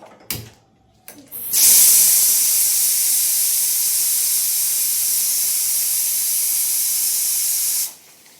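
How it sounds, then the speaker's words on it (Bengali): A pressure cooker boiling jackfruit and potatoes on a gas stove lets out its whistle: a brief clatter, then a loud, sustained steam hiss that holds steadily for about six seconds before cutting off abruptly. "একটা সিটি হয়ে গেছে, এবারে আমরা গ্যাসটা বন্ধ করে দেব।"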